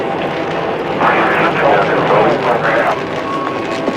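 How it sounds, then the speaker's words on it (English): The Space Shuttle Challenger lifts off on its 25th mission with a broad, distant roar that swells and rumbles under a continuous commentator's voice. "Liftoff of the 25th Space Shuttle mission, and it has cleared the tower"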